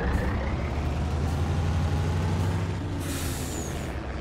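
Fiat 682 N4 vintage truck in Farming Simulator 19, a steady deep diesel engine rumble at a constant idle-like drone, loud and close, with a hissing air release partway through.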